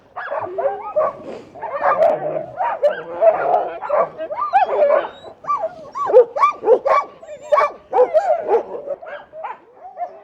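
A team of sled dogs in harness barks and yips in a frantic, continuous chorus of overlapping high-pitched cries, loud and close.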